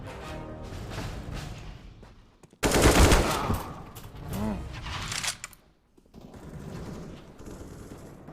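Bursts of video game gunfire break out abruptly at close range, a loud rapid volley followed by quieter scattered shots and clatter.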